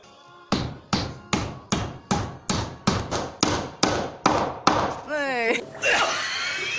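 Steel nails hammered through aluminium plates on a tiny house chassis: about a dozen sharp, ringing metallic blows in a steady rhythm, close and loud, followed by a squeaky scrape and some noise.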